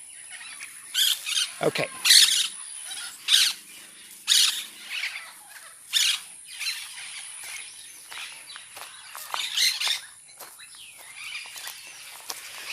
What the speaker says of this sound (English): the olive-throated parakeet.